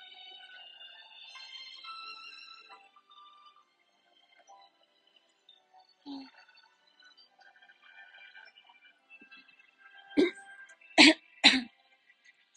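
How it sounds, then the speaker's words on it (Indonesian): Several sharp throat clears and coughs come in a short cluster near the end, close to the microphone, after quieter stretches of faint background sound. "Capek, batuk-batuk kayak apaan banget tau gak sih?"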